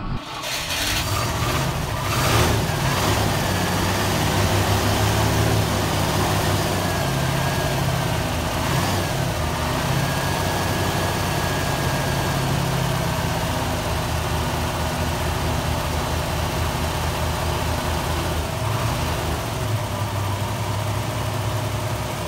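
A 1968 Rover P5B V8 engine idles in a steady, close, loud mechanical rumble for over twenty seconds, with a slight surge near the start and no voices over it.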